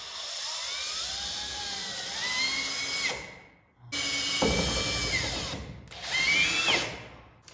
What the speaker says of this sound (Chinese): 打不锈钢就是用这个三角钻头打的，这是个新的，钻几个孔